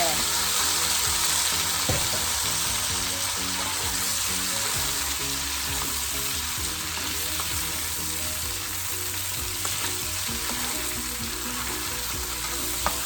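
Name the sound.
shrimp sizzling as they are added to the pan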